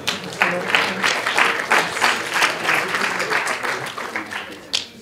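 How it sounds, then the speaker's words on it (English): Audience applause after a student hackathon demo, with a crowd clapping in loose waves and voices mixed in under the clapping. "Give him a round of applause."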